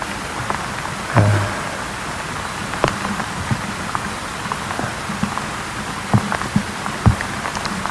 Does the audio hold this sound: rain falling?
yes